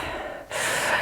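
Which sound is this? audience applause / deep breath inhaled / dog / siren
deep breath inhaled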